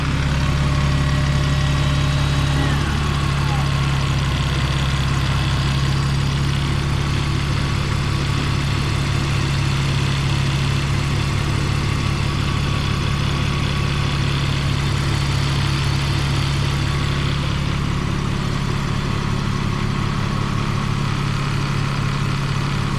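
A 2001 BMW E46 engine idles steadily and loudly for the whole stretch during an engine flush, a low rumbling hum with a faint rhythmic pulse and no voices.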